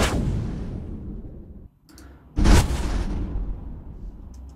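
Designed rising swells layered with small hand mortar blasts for a war ambience: a rumbling wash that drops briefly, then a loud sharp mortar burst and a sustained roaring tail.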